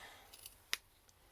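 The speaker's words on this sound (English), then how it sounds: "I've got small scissors because I figured that would be easier to cut around the edges and stuff" Small scissors snip once sharply through fabric for a slow-stitch gingerbread man, with a few faint clicks of the blades around it in a quiet room.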